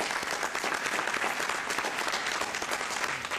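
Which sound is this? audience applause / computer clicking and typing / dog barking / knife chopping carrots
audience applause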